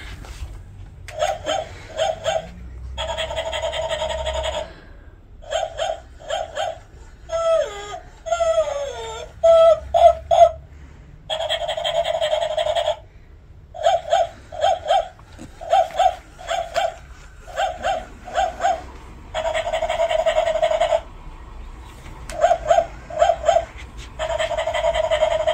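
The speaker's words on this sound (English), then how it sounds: "you can press a button and it'll like bark" A toy dog barks repeatedly when its button is pressed, loud rhythmic electronic yaps in bursts with short pauses, plus a brief warbling whimper sound partway through.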